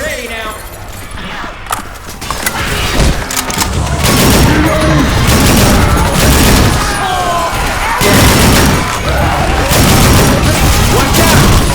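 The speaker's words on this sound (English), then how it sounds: "Throwing a pipe bomb!" Pipe bomb blast and gunfire in the horror shooter Dark Sector on nightmare difficulty, a dense barrage of loud booms and rapid shots building after a quieter start, with chaotic in-game combat noise throughout.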